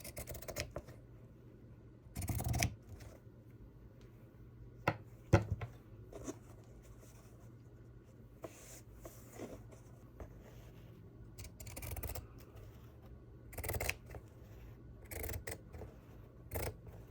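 Scissors snipping paper for a fairies and unicorns junk journal cover, scattered short cuts and rustling handling noises spread across a quiet room, close but soft.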